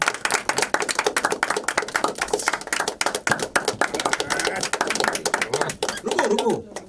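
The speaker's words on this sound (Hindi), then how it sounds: "तालियां।" Dense, continuous clapping from a crowd at a launch event for a web series trailer, steady and close throughout, with some voices and chatter mixed in beneath the applause.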